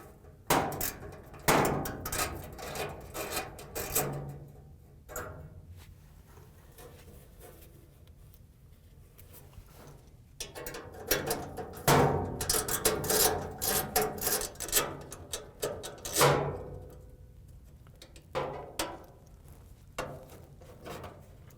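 Screws being unscrewed from a Whirlpool/KitchenAid/Maytag dryer's high limit thermostat with a ratchet and 1/4 inch socket: close, irregular metallic clicks and knocks in bursts, separated by quieter pauses, with no talk.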